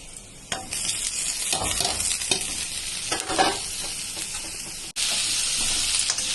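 Boiled cabbage with turmeric being stirred in a pan, with spoon scrapes and a steady hiss running throughout, close and fairly loud, with no voices.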